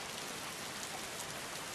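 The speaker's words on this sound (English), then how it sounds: "Sure, rain on Halloween night." Steady rain pours in Roblox Bloxburg on a Halloween night, a dense, even hiss of drops hitting surfaces, close and constant with no thunder or voices.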